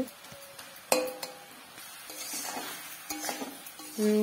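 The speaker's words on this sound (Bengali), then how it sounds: "এই দেখুন আমি খুন্তি দিয়ে ফাটিয়ে কেমন সুন্দর করে নাড়াচাড়া করে" A spatula stirs and cracks jujube pickle (kuler achar) in a sizzling pan, giving sharp scraping clinks and knocks against the metal over a steady low sizzle, close and fairly loud.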